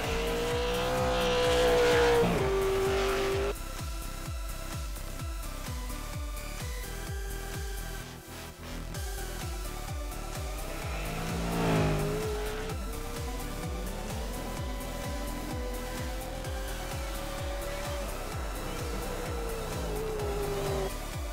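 Race cars lapping the Bathurst circuit in a racing game, engines droning and shifting pitch through gears with occasional tyre squeal, steady and fairly loud throughout.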